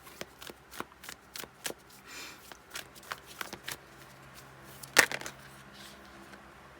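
Tarot cards are shuffled by hand in quick, crisp riffles and taps, close and fairly quiet, with a louder snap near the end.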